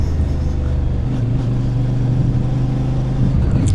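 A 2024 CFMoto 450MT motorcycle engine runs at high revs while riding, a loud, steady mid-pitched drone that climbs slightly partway through and holds for nearly four seconds.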